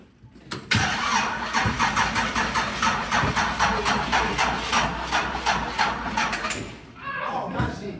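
Car engine with an LS turbo swap revving hard and steadily, a loud continuous throaty roar pulsing with rapid repeated throttle blips that settles toward idle near the end.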